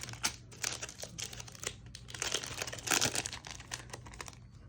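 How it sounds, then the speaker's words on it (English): A Japanese Pokémon card booster pack is torn open, with quiet crinkling and ripping of the foil wrapper in short, irregular bursts close to the listener. "Here we have the last pack, the Houdini pack, Pokemon. Let's go ahead and rip into this one."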